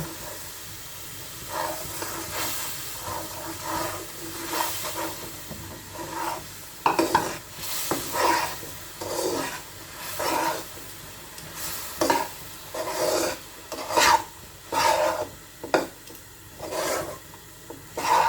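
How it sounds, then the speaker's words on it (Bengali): Rice flour is stirred into hot water to make dough, with continuous soft scraping and rubbing strokes over a low steamy hiss, coming in uneven bursts close by. "গরম জলে যে চালের গুঁড়িটা দিয়েছি"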